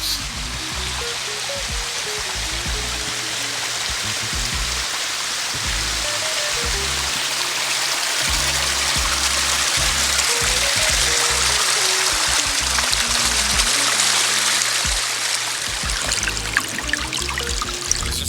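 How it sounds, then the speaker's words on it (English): Backyard waterfall pouring over basalt rock columns, a loud, constant splashing rush of falling water heard up close over quiet low tones. "I don't think that anybody that comes up here wouldn't think it's not a natural waterfall."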